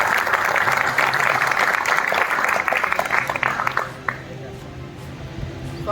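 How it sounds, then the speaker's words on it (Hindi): An audience at a review meeting in Prayagraj claps loudly and continuously for about four seconds, then the clapping fades out into quieter room sound. "तो जोरदार ताली बजाइए।"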